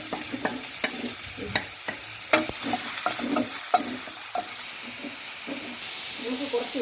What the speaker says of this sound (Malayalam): ഇങ്ങോട്ട് മാറ്റി വെച്ച് നമ്മൾ എണ്ണ ഒഴിക്കുന്നു. ഓക്കെ, എന്നിട്ട് കടുകിട്ട് താളിക്കുന്നു.